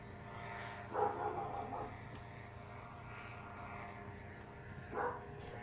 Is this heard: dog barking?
yes